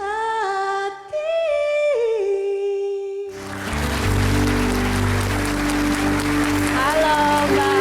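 A sung melody ends and an audience breaks into loud, sustained applause at an event for people with disabilities, with the clapping filling the rest of the moment.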